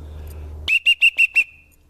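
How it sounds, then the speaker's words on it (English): An emergency whistle from a hunting rucksack kit gives five short, sharp, shrill blasts in quick, even succession, loud and close, over a faint low hum. "a lot of times this whistle will scare game"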